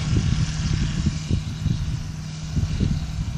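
A small buzzing model airplane engine drones steadily at a distance, rising and falling slightly as the miniature aircraft flies around outdoors at an ultralight airfield in Cambaie, Réunion.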